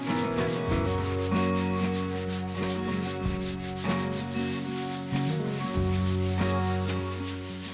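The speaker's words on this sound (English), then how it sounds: "I just got a little bit of footage of me sanding." Rhythmic back-and-forth sanding rasps on wood during a dining room makeover, close and loud, a continuous rubbing stroke repeated many times without talk.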